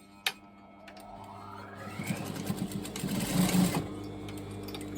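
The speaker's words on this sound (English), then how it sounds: "I'm going to tilt the overlocking down and then just top stitch that in place" Sewing machine top stitching down the overlocked edge on a strap top, a steady mechanical whir that builds from quiet to a dense, fast needle rhythm before easing off, heard alone at close range.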